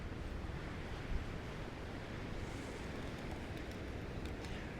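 Ocean waves wash steadily onto the shore, a soft, continuous surf hiss with light wind, fairly distant and even, with no talk.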